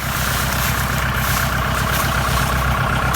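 A Kubota L5018SP farm tractor engine chugs steadily nearby while collecting straw, a loud, rhythmic low-pitched idle with a constant mechanical hum and no talking.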